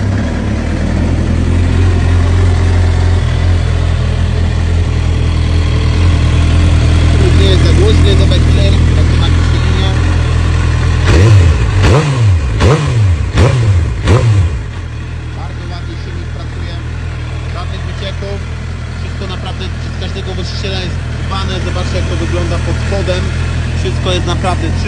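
A Suzuki GSX-R 750 K8 sport motorcycle idles with a deep, steady hum, then gets several quick throttle blips midway before settling back to idle. Someone talks over the engine.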